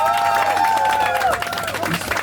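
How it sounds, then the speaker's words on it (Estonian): Light applause and scattered cheering from a crowd at a live punk band concert, a dense patter of clapping mixed with voices and lingering stage tones. "Sander, palun kerge aplaus."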